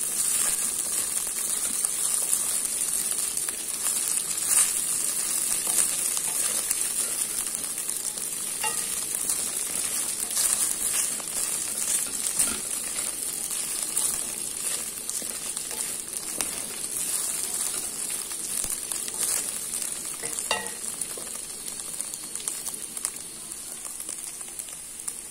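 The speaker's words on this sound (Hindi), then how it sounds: "अब इसमें मैं ये चिकन के रेशे किए हैं वो फ्राई करूंगी" Shredded chicken frying in ginger garlic paste gives a long, even sizzle close by, with scattered clicks and scrapes as it is stirred in the pan, and no voices.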